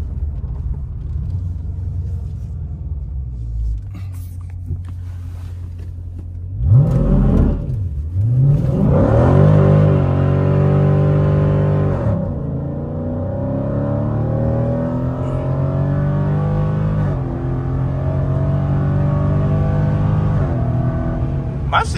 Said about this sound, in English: I see a car coming.